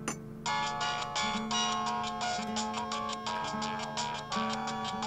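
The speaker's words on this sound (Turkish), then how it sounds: "Baba, telefonun çalıyor." A mobile phone rings indoors with a repeating electronic tone pattern, close and steady, sounding continuously with no voices over it.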